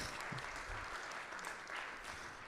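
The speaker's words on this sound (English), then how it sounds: "I feel we should give them another round of applause." Audience applause fills a Client Ascension mastermind event, a steady, fairly faint wash of many hands clapping throughout with no break.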